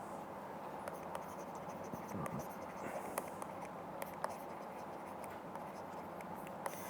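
A mathematical theorem being written out by hand, heard as faint, continuous scratchy strokes with small taps, quiet and close, with no clear talking.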